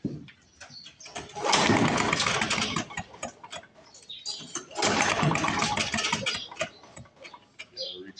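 A Lawn-Boy Gold Series two-stroke lawn mower engine, previously run on straight gas, revs up close by in two loud, rattling bursts, dropping back to a sputtering idle between them.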